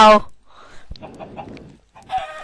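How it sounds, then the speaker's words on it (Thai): A Minecraft chicken gives a few short, sharp clucks and squawks as it is struck, in quick bursts with quiet gaps between them and no talking. "กระโดดน้ำมือไปตีไก่"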